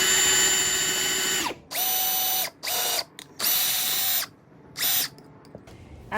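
A power drill bores pocket holes for Kreg screws in cabinet frames for a van build: a long whining run, then several shorter bursts with sudden starts and stops, loud and close, no speech.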